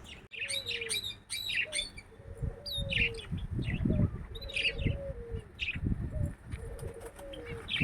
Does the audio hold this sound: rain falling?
no